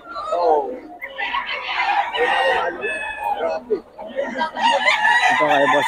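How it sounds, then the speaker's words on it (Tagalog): Roosters brought for sale crow loudly and close by in several overlapping calls, one after another, with some clucking between. "Mga manok ni Boss Gaga mga idol"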